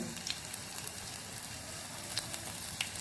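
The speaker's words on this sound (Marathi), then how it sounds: "फोडणीला मी इथे लसूण टाकले" Steady, dense sizzling of garlic and fenugreek frying in hot oil, continuous crackle with occasional sharper pops, close up and without any talking.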